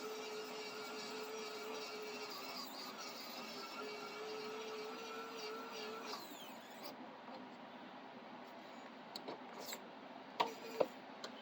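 A 3D printer's cooling fan runs steadily as a broad, constant whir for most of the stretch, then drops quieter with a few small ticks and clicks near the end.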